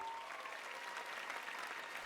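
Oscars audience applauding Michelle Yeoh as her nomination is read, a steady wash of many hands clapping in a large hall, fairly faint and continuous throughout with no voices on top.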